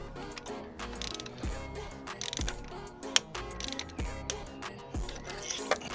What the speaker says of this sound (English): So we'll take our torque wrench